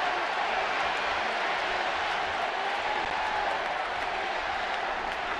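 Ballpark crowd at a Dodgers–Giants baseball game roaring steadily after a home run, a dense, continuous wash of cheering and clapping filling the stadium at even strength throughout.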